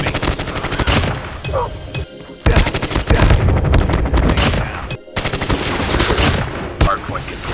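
A GRAU 5.56 rifle fires dense rapid bursts in a Call of Duty Mobile match, loud and nearly continuous with two short pauses, amid other in-game gunfire.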